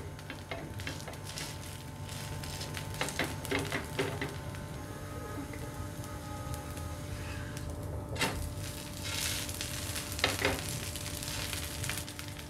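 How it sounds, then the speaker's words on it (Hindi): A rava dosa sizzles in a pan over a medium flame. The frying crackle is steady and close, broken by occasional clicks and scrapes of a utensil against the pan. "फ्लेम को मीडियम करके दूसरी साइड पे भी हम इसे एक से दो मिनट पका लेंगे"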